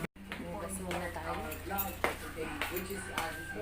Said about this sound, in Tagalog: Hugas, daming hugasan.